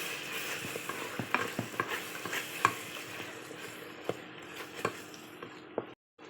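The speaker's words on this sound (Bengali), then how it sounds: "ভালো করে মশলাটা ভুনে নেব" A spice masala of cumin, coriander, dried chili powder and salt fries quietly in a pan, with a faint low sizzle under repeated sharp clicks and scrapes of a stirring spoon against the metal.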